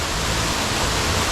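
The waterfall at Egypt Falls, Nova Scotia, gives a dense, steady roar of falling water heard close up, with no other sounds.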